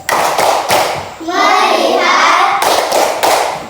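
A class of schoolchildren beats out the 'tepuk fokus' clapping rhythm, with several sharp group claps at the start and end and a stretch of children chanting together in the middle.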